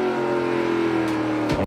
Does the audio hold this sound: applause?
no